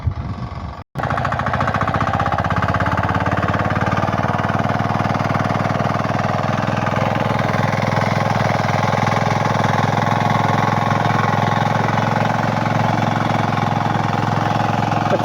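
A walk-behind tractor (motoblock) engine runs in second gear, loud and steady with a close, rapid hammering chug; a brief cut near the start, then continuous running.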